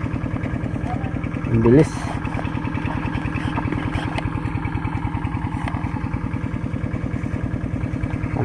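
A hand tractor's engine chugs steadily up close while it plows a field, its even low pulse running throughout, with a person speaking briefly over it.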